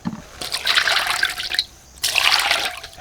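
Tap water runs in strong splashing bursts while raw pork is washed at a sink before being dry-fried with curry. The flow starts and stops in three loud surges with short quiet gaps, and no voices are heard.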